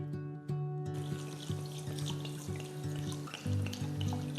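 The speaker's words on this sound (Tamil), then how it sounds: "அரிசியை நல்லா கழுவிட்டு தேவையான அளவு தண்ணியை ஊற்றி" Basmati rice swishes and sloshes in water in a pot, a near, steady wet rustle with a low background hum and no talking.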